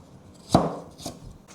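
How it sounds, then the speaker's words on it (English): A knife cuts carrots into matchsticks on a board: one sharp, close chop near the middle, then a softer second cut a half-second later, with no talking. "Cut the carrots into matchsticks."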